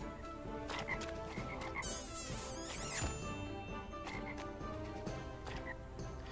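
Croaks from a frog that kills the player character in a video game. The croaking repeats over dense game music and sound effects, with a loud burst of noise in the middle.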